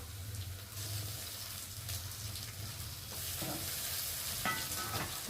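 Turmeric, ginger paste and cumin paste fry in a pan, giving a quiet steady sizzle mixed with stirring scrapes and a few louder clinks and splashes toward the end.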